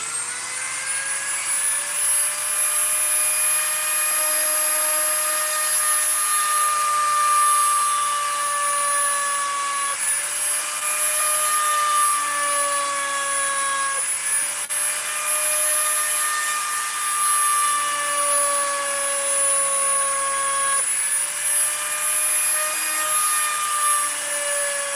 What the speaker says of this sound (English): let's make some bullet holes with this pointy little diamond-shaped bit next